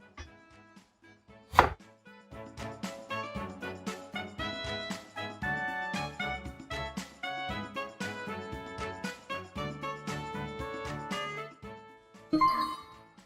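Onions for nasi lemak are chopped with a knife on a board, producing quick, steady, close chops with a sharp knock near the start and a brief clatter at the end.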